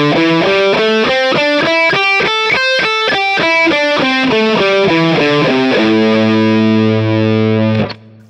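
A distorted electric guitar runs quickly up and down a blues rock scale pattern in evenly spaced single notes, then lets one final chord ring out loud and alone before cutting off.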